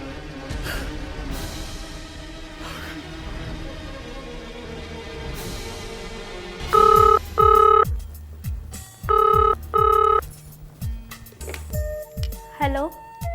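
A telephone bell rings in several loud, clipped double bursts partway through, following a stretch of indoor activity with voices and clatter; speech occurs around the rings.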